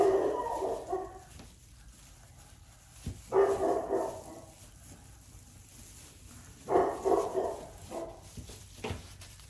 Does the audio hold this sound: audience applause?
no